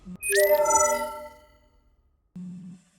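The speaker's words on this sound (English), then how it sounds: "A low chime rippled through the chamber." A low chime rings out through a chamber, swelling with a bright shimmering attack and then fading over about a second, followed by a brief low hum near the end.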